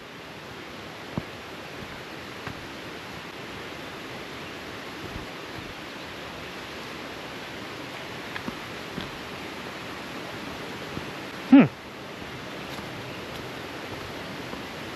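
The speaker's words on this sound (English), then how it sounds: "I hear some heavy water flowing down." Waterfalls along the Bartram Trail in a forest give a steady, loud, broadband rush of falling water that runs through the whole stretch, with only a few faint knocks and one brief louder bump.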